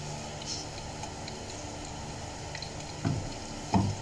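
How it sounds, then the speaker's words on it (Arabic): Rabbit pieces sautéing in ghee, a soft steady sizzle with a few faint ticks and two brief louder stirring knocks near the end. "انت بتشوحيها بس في السمنه"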